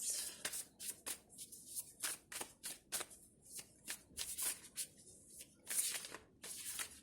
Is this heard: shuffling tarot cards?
yes